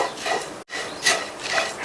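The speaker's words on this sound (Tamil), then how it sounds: "அதே மாதிரி நிதானமான தீயிலேயே வச்சு இந்த அவல் தேங்காய் துருவல் ரெண்டையுமே வறுத்துட்டே இருங்க" A utensil scrapes flattened rice and grated coconut roasting in a pan, making close, rhythmic rubbing strokes with a brief pause between passes.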